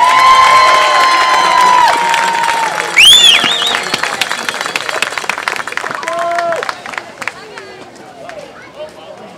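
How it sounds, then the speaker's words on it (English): A football stadium crowd applauds and cheers for the Mount DeSales cheerleaders at a high school game, a broad, loud wash of clapping and shouts with whistle-like tones and a nearby voice talking over it. "a round of applause for our Mount DeSales cheerleaders"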